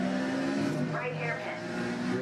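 A car engine in Forza Motorsport hums on track at steady revs, its pitch shifting briefly as the car works through a bend, in a short, moderately loud stretch.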